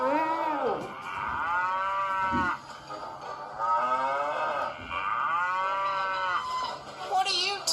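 A cow moos in several long, drawn-out calls with short pauses between them, loud and close in an animated railway setting.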